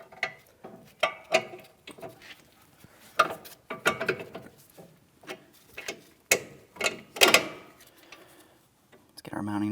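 A hand ratchet clicks in short repeated bursts while a mounting nut is threaded onto a new front sway bar link on a 2007-2014 Ford Edge, the sharp metallic ticks close and separated by brief pauses.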